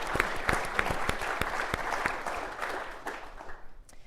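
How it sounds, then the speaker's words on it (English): A small group claps, sharp irregular handclaps close by that gradually thin out and fade toward the end. "I just real quick want to give them all a round of applause"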